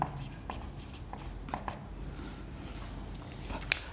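Chalk or a marker writes on a board during a class 12 electrochemistry lesson, soft scratchy strokes and taps at a quiet, close level with a sharper click near the end.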